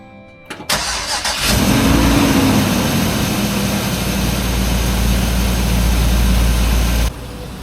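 An RV engine cranks briefly and catches, then settles into a loud, steady idle that runs for several seconds before cutting off abruptly.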